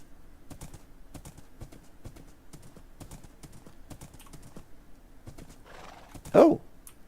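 Horses in a Lord of the Rings video game clop along steadily in a quiet village setting, a regular rhythm of close hoofbeats capped by one loud neigh near the end, no talking.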